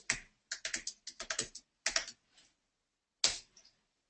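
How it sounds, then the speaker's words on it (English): Clicky typing on a computer keyboard, close and fairly quiet, in quick bursts of keystrokes separated by short pauses, ending with a couple of isolated taps. "So I'm typing it here right now so you guys can see."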